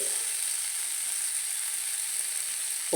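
Sardines sizzling in hot oil in a frying pan, a steady, even hiss throughout with no talking.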